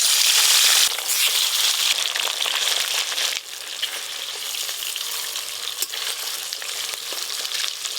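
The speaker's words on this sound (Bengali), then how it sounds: "এবার মাছগুলো প্রথমে ভেজে নেব।" Pieces of rohu fish fry in very hot oil, a loud, dense, continuous sizzle and crackle close by, slightly easing after the first second, with occasional sharp pops.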